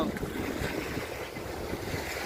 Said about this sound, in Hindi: टापू के इस तरफ से हिंद महासागर की लहरें चली आ रही हैं